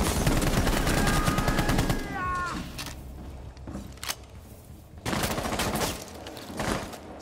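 Sustained automatic gunfire from a mounted gun in the tactical shooter Rainbow Six Siege, with a loud rapid burst for two seconds, then sporadic quieter shots and game effects, and another burst of firing.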